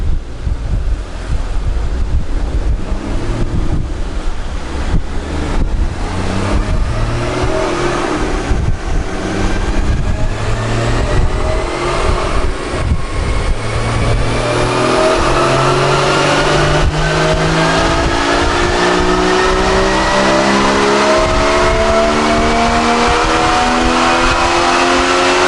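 Car engine fitted with an IPD aluminum plenum runs and revs steadily, rising harmonic tones climbing in pitch over a constant loud roar with heavy wind buffeting, no talk.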